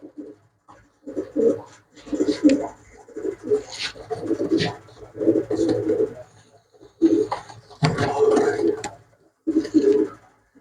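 Pigeons coo in repeated soft, throaty bursts at a pigeon market, each phrase separated by short pauses, close and fairly clear.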